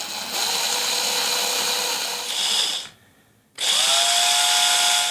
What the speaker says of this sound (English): so now that I got that pre-drilled